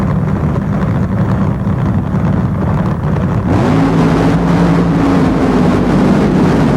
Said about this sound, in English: Leaving the line together, but look at Don Prudhomme.